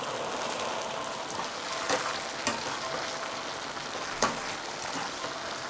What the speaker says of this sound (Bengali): ফুটতে শুরু করে দিয়েছে, কাজেই যে মাঞ্চুরিয়ান বলগুলো আমি ভেজে তুলে রেখেছিলাম সেগুলো এবার এর মধ্যে দিয়ে দিচ্ছি।